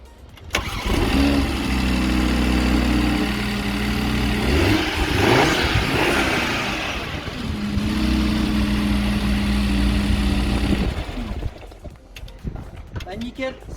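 A faulty Audi RS3 engine cranks and catches, then settles into a steady idle broken by rev rises and a second sustained run, loud and close in a workshop, with the engine cutting near the end.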